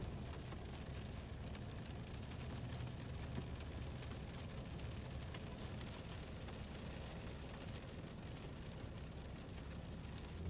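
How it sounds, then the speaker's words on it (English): Rain falls steadily outside as a faint, even hiss with no change in intensity and no voices. "it's raining out here"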